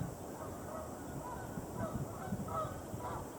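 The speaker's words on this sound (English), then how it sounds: "A couple of geese way up on the rooftop over there. Oh, one just took off." Faint, distant goose honks from urban geese on a rooftop come through a low outdoor rumble, a few scattered calls over a few seconds as one takes off.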